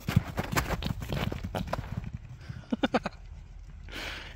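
A horse runs in a snowy arena, its hooves thudding in a quick, uneven rhythm close by, then a few sharper isolated steps before the sound fades into quiet ambience.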